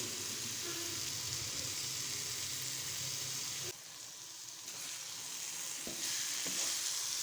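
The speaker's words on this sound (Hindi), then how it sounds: "गाजरों ने घी छोड़ना शुरू कर दिया है। थोड़ी सी और बुनाई करेंगे।" Grated carrots frying in ghee for gajar halwa, a continuous close sizzling hiss with stirring noise, briefly quieter midway, then a couple of soft clicks from the utensil against the pan.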